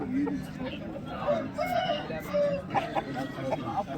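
Country chickens and fighting roosters cluck and call close by, with a brief crowing-like cry, amid the chatter and talk of the busy Vijayawada Sunday chicken market.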